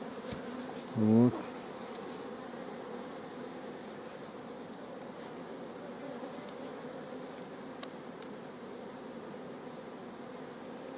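Bees fly around a beehive on a sunny countryside homestead in June, giving a steady, soft, distant buzzing drone that runs throughout, with one brief spoken word near the start.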